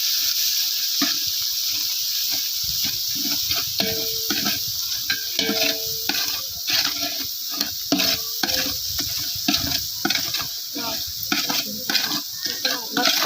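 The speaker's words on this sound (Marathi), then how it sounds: "मस्त असं हलवून घ्यायचे मी चांगलं परतून घ्यायचे" Mutton being stirred and sautéed in a pan, with repeated scraping stir strokes over a steady sizzle, close and fairly loud, running continuously with no talk.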